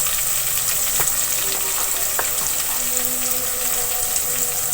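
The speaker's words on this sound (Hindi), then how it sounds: "टमाटर को मैं इसी में लहसुन के साथ भून लूंगी।" Tomatoes and garlic fry in a pan for aloo gosht, giving a loud, steady, dense sizzle throughout, with a few faint clicks of stirring underneath and no talk.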